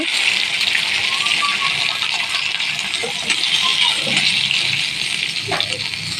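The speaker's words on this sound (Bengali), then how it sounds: "মাছগুলো ভাজা হয়ে গেছে, এবারে তুলে নেব" Pangas fish pieces fry in hot oil, a steady bright hiss of sizzling with occasional small pops and knocks, while a person talks over it.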